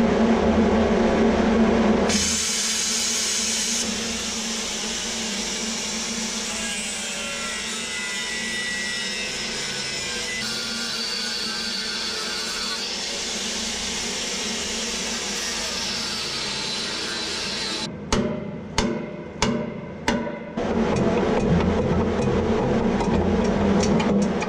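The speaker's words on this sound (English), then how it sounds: "we're going to plasma it out so we can actually access those corners" A plasma cutter hisses and roars loudly and continuously as it cuts out stainless steel flooring inside a vehicle. A burst of sharp pops and crackles comes near the end before the steady roar resumes.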